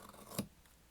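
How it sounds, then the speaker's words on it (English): A single quick snip of crooked scissors cutting a paper border, one short crisp cut, faint and close in otherwise quiet surroundings. "cut it with my crooked scissors"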